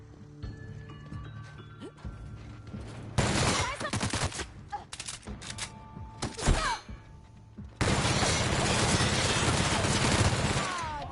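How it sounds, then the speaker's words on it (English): Bursts of gunfire in the video game The Outer Worlds, with several dense rapid volleys separated by sharp single shots and thuds, loud and close. "That was so many bullets missed, it wasn't funny."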